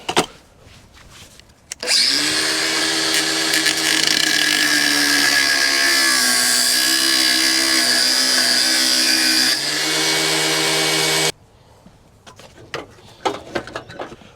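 Power tool cuts through a section of an R33 Skyline, a loud steady grinding whine for about ten seconds, preceded and followed by quieter clattering handling noises.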